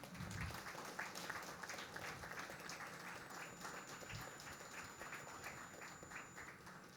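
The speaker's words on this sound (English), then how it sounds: "Keep clapping, everybody." Applause from attendees at a CEO round table on the bioeconomy, a steady, faint patter of many hands clapping, with a brief low thump near the start.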